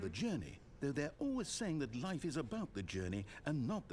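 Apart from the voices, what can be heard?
No everyday noises stand out.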